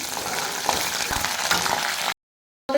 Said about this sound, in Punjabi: ਮੈਂ ਤੜਕਾ ਲਾ ਰਹੀ ਹਾਂ ਜੀ ਸਾਗ ਨੂੰ